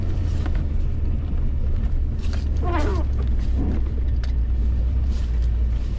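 Car driving along a snow-covered road in a blizzard, a constant loud low engine and road rumble with creaks and muffled knocks from the snow throughout.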